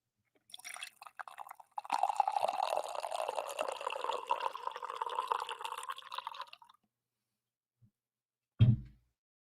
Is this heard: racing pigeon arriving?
no